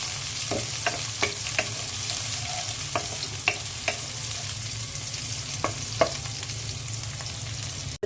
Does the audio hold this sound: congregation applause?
no